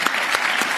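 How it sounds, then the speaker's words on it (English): Brief burst of audience applause at a World Economic Forum panel session, a dense, even patter of many hands clapping throughout. "I think the panel deserves big applause."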